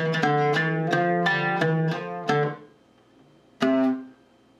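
Oud playing a passage from Samai Bayati al Aryan: a run of about eight quick plucked notes with bright harmonics, a brief pause, then one more ringing note that decays, played solo and close.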